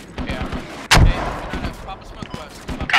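Artillery in the video game Squad fires one loud, punchy boom near the first second, surrounded by scattered lighter gunshots and thuds, with voices talking faintly over the battle.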